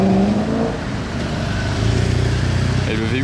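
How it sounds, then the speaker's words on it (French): Audi RS4 with a V8 engine and manual gearbox, seen on a winter street, rumbles past close by with a deep, steady engine note that swells near the end; voices talk over it. "le V8 il résonnait encore bien à cette époque-là"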